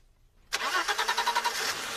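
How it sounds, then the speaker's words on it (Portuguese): A car engine cranks with a rapid, rhythmic chug for about a second after silence, then catches and settles into a steady idle nearby. "Agora quero que você ligue o motor pra mim."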